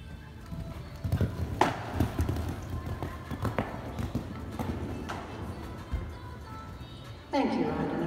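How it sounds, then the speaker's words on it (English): Horse hooves canter over the footing of a show jumping arena, a rhythmic series of dull thuds close by, with an announcer's voice over a loudspeaker and arena background noise. "Canter two verticals on a related distance,"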